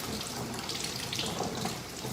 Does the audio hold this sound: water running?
yes